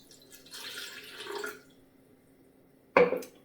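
Water pours briefly into a bowl with a soft splashing trickle, followed a moment later by a sharp clink.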